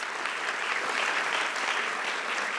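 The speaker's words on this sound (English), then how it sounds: "Can we have a round of applause for all of these wonderful men and women" Audience applause fills an awards ceremony honoring community members, a thick, continuous clapping from a large crowd with no pause across the short stretch.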